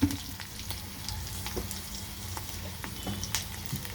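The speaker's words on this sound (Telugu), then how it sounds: "ఒక 2 నిమిషాలు అలాగే ఉంచేస్తే అల్లం కొంచెం మంచిగా వేగుతుంది." Ginger frying gently in a little oil while tempering for restaurant-style curd rice, a steady soft sizzle with scattered small crackles and pops, close and fairly quiet, with no one talking.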